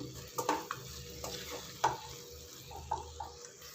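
Button mushrooms, about one packet, being stirred into a thick green peas masala gravy in a pan, with a few scattered scraping and clinking strokes over a soft, low sizzle.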